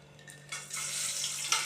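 Cinnamon and cloves dropped into hot oil in a pan, a close, bright sizzle that swells suddenly and then keeps crackling steadily.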